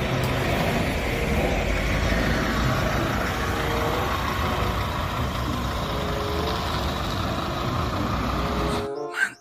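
A heavy vehicle, probably a bus, rumbles past with a broad, steady engine and road roar, loud and close, holding for several seconds before cutting off abruptly.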